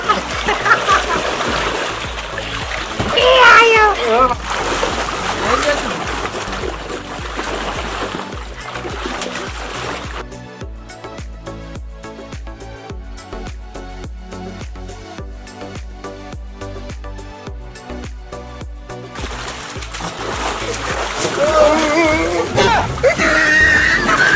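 Children splash and play in swimming water, with sloshing, splatters and excited shouts and talk throughout; a stretch of music covers the middle before the splashing and voices return louder.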